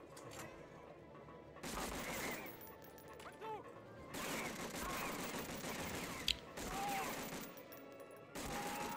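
Gunfire in Medal of Honor: Frontline, several bursts of rapid automatic shots separated by short lulls, with a sharp single crack partway through, fairly close against a low ambient rumble.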